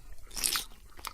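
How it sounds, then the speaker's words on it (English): A single crisp bite into a juicy apple, followed by a second brief crunch, quiet and close with no talk. "Tom slowly picked up the apple. It looked fine and juicy, so he began to eat it."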